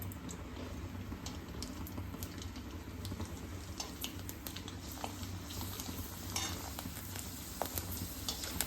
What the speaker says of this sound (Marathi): तेल कडकडीत गरम झाले. आपण चकली तळून घेणार आहे.